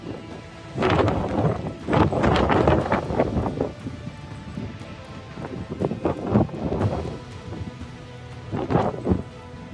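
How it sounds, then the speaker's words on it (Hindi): Blizzard storm in Reykjavik, with loud gusting wind and thunder-like roaring bursts rising and falling in waves, heavy and close with no voices. "रिक्जेविक में बर्फीले तूफान ने जिंदगी मुश्किल कर दी है।"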